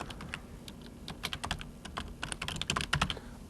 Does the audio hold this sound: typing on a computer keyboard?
yes